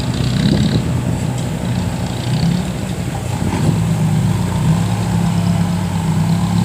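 A large bulldozer engine pushing clay rumbles continuously at a steady idle, loud and close, with no voices over it.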